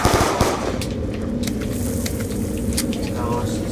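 Pistol gunfire from the starting pistols in Black Ops 2 Zombies on the Town map, played online on Xbox One. A few sharp shots ring out early, then a steady dense rumble of game noise carries on.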